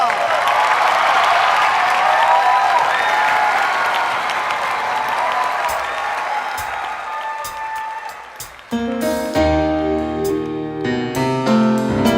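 A studio audience at The Mask Singer Thailand applauds the pheasant mask singer, loud sustained clapping and cheering that fades as music starts in the final seconds.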